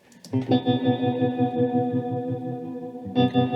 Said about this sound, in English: I did the pre-delay pretty high because I wanted to sound like if you're underwater